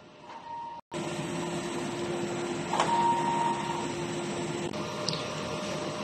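A printer runs a heat clean cycle on its print head: a steady mechanical hum with a sustained electronic tone after a brief dropout, and occasional faint clicks and squeaks over the drone.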